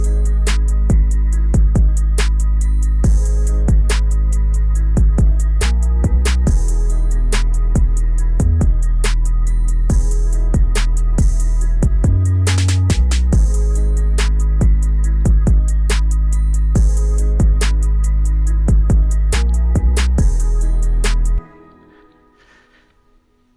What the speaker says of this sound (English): altogether the drums sound like this